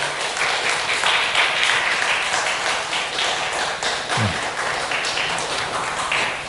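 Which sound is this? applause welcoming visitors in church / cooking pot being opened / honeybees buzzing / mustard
applause welcoming visitors in church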